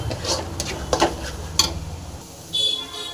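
Mustard seeds and fenugreek frying in a pan for bitter gourd pickle, a brief close sizzle with a few scraping stirs and light taps, thinning out and going quieter toward the end.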